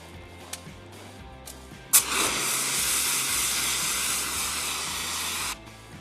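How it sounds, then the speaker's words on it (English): An Ansul Red Line dry chemical fire extinguisher discharges in a loud, steady hissing spray lasting about three and a half seconds after a sharp burst at the start, preceded by a few faint clicks, with no talk. "Open the nozzle by depressing the handle. Aim at the front edge of the fire and sweep side to side"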